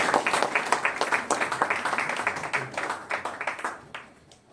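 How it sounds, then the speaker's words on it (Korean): Audience applause at an awards ceremony, a dense steady clapping from a crowd that sustains for several seconds before tapering off near the end. "다시 한번 큰 박수 부탁드립니다."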